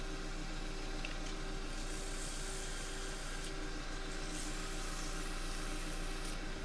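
180-grit abrasive rubs against a small bark-rimmed wooden bowl turning on a lathe, making a soft, continuous, faint scratchy hiss with no pauses.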